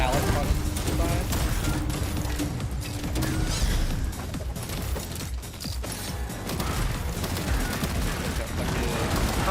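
Machine gun fire in a video game rattles continuously, loud and dense, with mechanical clanks, while a person talks over the shooting.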